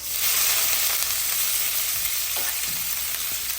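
Onions fry in about two tablespoons of oil with cumin seeds in a kadai, a loud, dense, continuous sizzle heard close, with a few faint stirring sounds and no voices.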